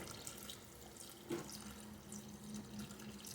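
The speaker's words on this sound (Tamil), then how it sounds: "புளி தண்ணியை ஊற்றி நல்லா கலந்து விட்டாச்சு" Tamarind water being poured into a pot of curry with potatoes and drumsticks, a faint trickling and splashing liquid sound with a brief louder splash, low and close with no talk.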